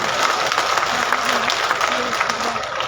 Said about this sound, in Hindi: दोनों हाथ ऊपर करके जोरदार तालियों से इनका स्वागत सम्मान करें।